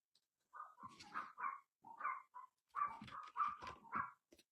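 Several dogs bark in a series of short, clustered yaps and woofs at moderate distance, with brief pauses between bursts and no talking over them.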